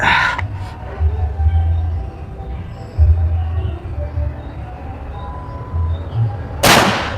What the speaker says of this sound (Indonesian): Tembakan ke 6 untuk Samyak lancip.